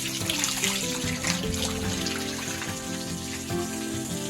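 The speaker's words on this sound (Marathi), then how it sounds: "या गायीच्या मुखातून अशा पद्धतीने पाणी येते बारा महिने पाणी आहे" Water spills steadily from a carved stone cow-mouth spout at the Gaymukh spring in Panheli, Mangaon, Raigad, a loud, continuous rushing flow that never pauses.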